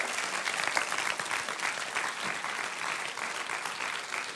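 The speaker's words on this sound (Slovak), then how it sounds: "privítajme s veľkým potleskom Rastiho Majera" A large audience at a live stage event applauds steadily to welcome a speaker, a dense, continuous wash of clapping that holds at full strength throughout.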